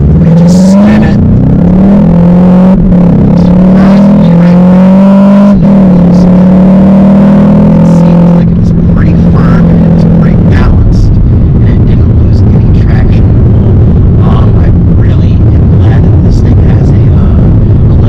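A 2021 Volkswagen Jetta GLI, a front-wheel-drive sedan, launches hard with its front tires spinning, the engine droning loud and rising in pitch before shifting and settling into a rough, steady roar, close and overwhelming.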